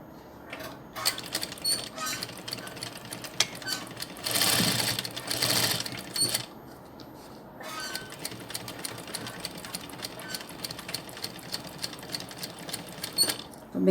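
A sewing machine stitches a doll in quick repeated runs, its fast mechanical chatter broken by short pauses and a louder backstitching stretch in the middle, close and clear with no talking.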